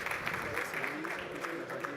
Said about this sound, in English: So please, round of applause, welcome up to the stage, Sebastian Canadell.